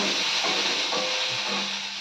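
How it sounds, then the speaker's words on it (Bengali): Chopped onion fries in a pan while being stirred, giving a continuous close crackling sizzle with soft scraping and rubbing of the utensil against the pan. "দিয়ে আমাকে একটু নেড়ে নিতে হবে"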